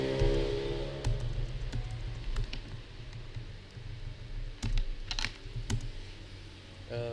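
Typing on a computer keyboard, steady close-up key clicks with a few sharper taps, running for several seconds over a low background hum, with no talking.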